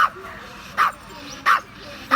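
A dog barks three or four times in short, evenly spaced yaps, fairly close, over a low background hum.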